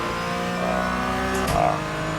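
A Porsche 718 GT4 race car engine in iRacing at Lime Rock Park drones steadily at mid pitch, with a brief shift-like break and a quick rev partway through, heard alone.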